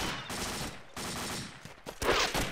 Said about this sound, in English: Bullets are going over my head, dude.